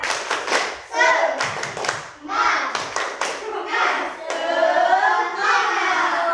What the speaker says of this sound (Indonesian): Sekarang kita tepuk semangat terlebih dahulu saja ya.